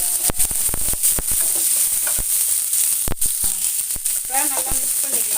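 Steady crackling sizzle of finely chopped onions frying in a hot pan, with a few clicks and scrapes of stirring over the continuous hiss.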